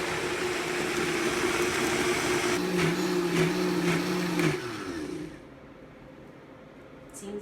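A kitchen mixing machine whirs loudly and steadily as it blends carrot muffin batter, its tone shifting midway, then winding down into quiet room tone with a faint knock at the end.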